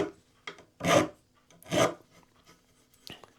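A coarse metal file rasps across the frets of a Flying V guitar neck, two distinct close strokes about a second apart, with faint scraping between, no talking.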